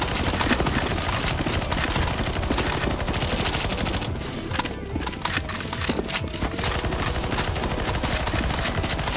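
Dense, continuous automatic gunfire from many players shooting a boss in CS:GO Zombies on the Forhidden map, loud and near, a steady chatter of rapid shots layered with game effects that runs without pause.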